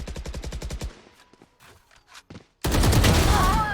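Rifle gunfire in a competitive video game match: a rapid burst of shots at the start, scattered quieter game sounds, then a loud sustained blast of noise to the end.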